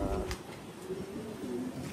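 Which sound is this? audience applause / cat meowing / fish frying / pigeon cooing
pigeon cooing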